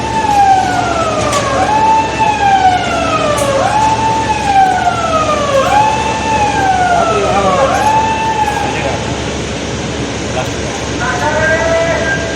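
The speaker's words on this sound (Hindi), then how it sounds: "जब ब्लास्टिंग की सारी तैयारियां हो जाती हैं उसके बाद 3 बार सायरन बजते हैं" A warning siren at a rock blasting site wails loudly in repeated rising and falling cycles, steady and dominant over a constant background rumble.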